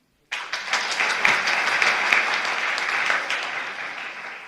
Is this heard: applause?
yes